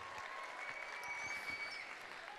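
Audience applause at an elementary and middle school choir festival, faint and distant clapping from a crowd, blended with a hum and whistle-like tones in the room.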